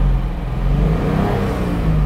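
A Mercedes sports car engine, either a 300SL or SLS Black Series, revs loudly and close by in a steady, rising drone with no voices over it.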